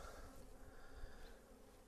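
Dense, steady buzzing of many Buckfast honey bees in a hive fills the clip, a close continuous hum without pauses or voices.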